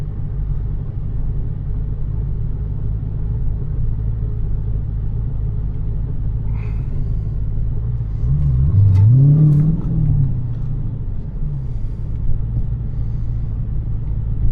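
A supercharged 426 Whipple Hemi engine rumbles loud and close at idle, then swells into a brief rev before settling back to its deep steady idle, with no talking.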